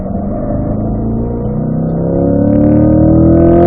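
A race car engine loud and close throughout a hot lap on a track, a steady droning roar with harmonics that climb gradually as it builds speed toward the end.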